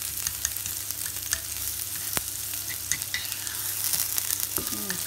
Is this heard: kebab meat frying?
yes